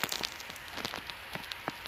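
Steady patter of heavy snowfall hitting surfaces, a dense rain-like hiss with scattered louder taps, fairly close, in South Korea.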